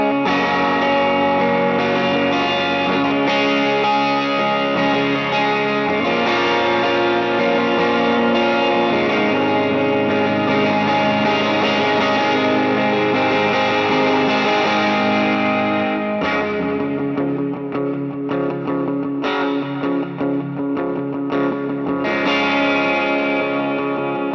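Higher-gain electric guitar from an HX Stomp with a chorus-tinged effect: loud, sustained distorted chords ringing continuously, then a choppier rhythmic passage near the end, no voices present.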